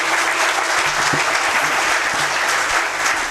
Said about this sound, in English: I request you all please give a big round of applause to your proud parents